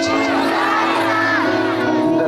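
A large church gathering shouts loudly together on request, many voices merging into a dense, sustained roar that stays loud for the whole moment.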